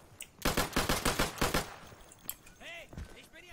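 Gunfire in the World War II shooter Day of Infamy, a fast burst of about eight rattling automatic shots, then a single crack and some distant metallic rings, with a voice briefly talking in between.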